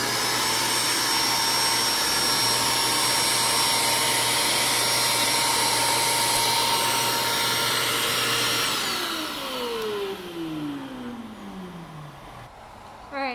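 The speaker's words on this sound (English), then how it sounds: "I'm gonna turn the power button on the vacuum and here we go." A desktop vacuum former's loud, steady vacuum motor roars on its own, then spins down, its pitch sliding lower as it fades toward quiet.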